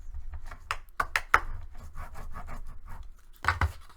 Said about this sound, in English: So we're going to go ahead and burnish it first.